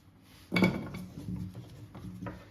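Pieces of carrot clatter into a metal pot with a hollow knock, followed by a few lighter bumps and scrapes, fairly quiet.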